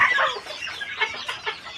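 Young fancy-coloured Saramo rooster giving a series of nervous clucks close by, several short calls in quick succession with no talking over them.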